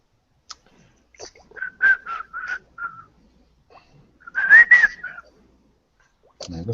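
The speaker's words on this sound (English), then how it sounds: "That whistle noise? Oh, that's my Yeah. text. That's my text tone." Phone text-message alert tone made of whistled notes: a few short, bright whistle bursts, a pause, then another cluster, fairly close with quiet gaps between.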